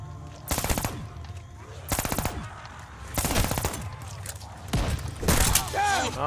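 Pistol gunfire in Warzone Zombies, four separate bursts of rapid shots spaced about a second apart, with voices heard between and around them.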